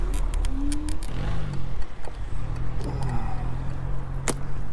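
Cars pass along a road in Hyères, heard from an electric scooter ride, with engine hum sweeping by and rising and falling tones, moderately close under wind noise.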